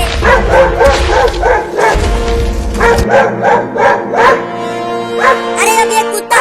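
A cartoon dog barks at an elephant in a rapid, loud string of high yapping barks, close and continuous, with a few whimpering yips near the end.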